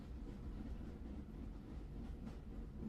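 Steady low rumble of a train carriage rolling on the rails, heard from inside as a constant dull background with no distinct clacks or voices.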